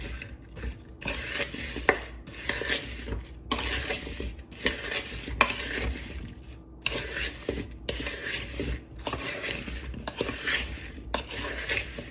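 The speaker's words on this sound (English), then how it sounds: "let's go ahead and stir it all up" Seasoned potatoes are stirred with breadcrumb seasoning in a bowl, making repeated scraping, rattling strokes in a steady rhythm with brief pauses between bursts, close and moderately loud throughout.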